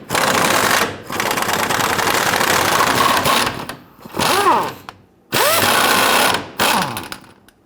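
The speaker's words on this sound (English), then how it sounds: "We're going to use our 14mm deep socket to go ahead and loosen and remove the bolt on our carrier bearing." A power ratchet with a 14mm deep socket removes a carrier bearing bolt on a 2007-2021 Toyota Tundra 4.7L V8 during fuel tank strap work, loud close whirring in several bursts broken by short silences.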